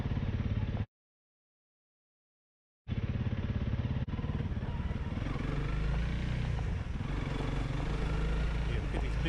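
A motorcycle rides along Low Line Road in Morgan County, West Virginia, its steady engine drone loud and close, briefly cutting out before resuming and holding a constant rumble with wind noise.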